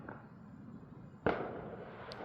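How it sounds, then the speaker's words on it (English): A single sharp firework bang cracks out at mid-distance in an outdoor night setting, then a faint pop follows, both over a steady low background hum. "And there you hear the fireworks going off."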